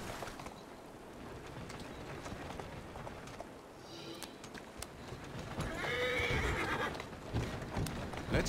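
A horse in the game Assassin's Creed Syndicate neighs and whinnies loudly near the middle, with clip-clop hooves and street ambience around it and no talk.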